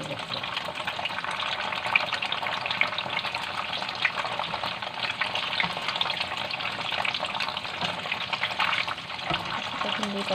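Tofu frying in a pan while being turned over: a steady, close crackling sizzle of oil runs throughout, with small scraping and turning noises.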